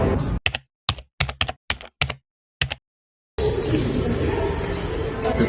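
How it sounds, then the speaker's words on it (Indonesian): Typing out the text of the Indonesian proclamation on a keyboard or typewriter: close, bursty clusters of sharp key strikes with short gaps, followed by a steady noisy room ambience. "Siap pemuda, saya akan mengetik teks proklamasi ini."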